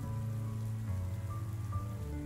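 Rain falling on surfaces, a soft continuous patter that stays faint and steady with no distinct drops, under a low background hum and with no voices.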